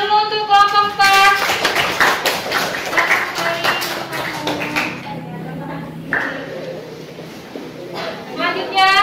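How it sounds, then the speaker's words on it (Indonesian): Pupils in an Indonesian-language classroom clap for a group in a short burst of sharp, uneven hand claps, with children's voices and chatter running underneath and around it. "tepuk tangan dulu untuk kelompok 4"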